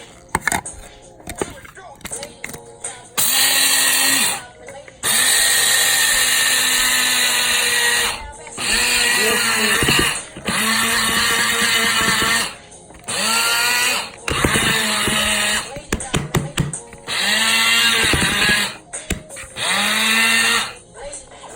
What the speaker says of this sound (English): okay, this is a coffee machine.